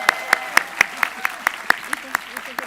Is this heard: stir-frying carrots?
no